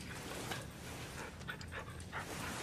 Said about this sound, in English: My other dog.